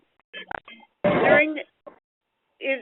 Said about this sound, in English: is someone attempting to dial in phone?